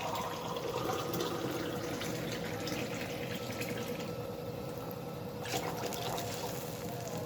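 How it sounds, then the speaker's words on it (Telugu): A glass of water is poured into a pan while cooking tomato upma, making a soft, steady splashing trickle that runs quietly for several seconds with no talk. "ఇంకో గ్లాస్ పోసుకుంటాను నీళ్ళు."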